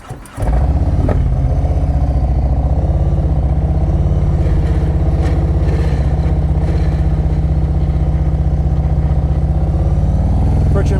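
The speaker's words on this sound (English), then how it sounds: "I'm gonna make some U-turns, some circles. I'm gonna have the bike leaned all the way over." Motorcycle engine running steadily at low speed while making slow U-turns and tight circles with the bike leaned over, a continuous close, loud rumble with slight revving variations and no talk.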